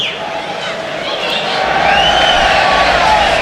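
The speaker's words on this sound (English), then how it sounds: "gets a delighted cheer from the crowd" A football crowd at a Carlisle United versus Solihull Moors match roars with delighted cheering, a broad wash of voices that builds and stays loud, while a commentator keeps talking over it.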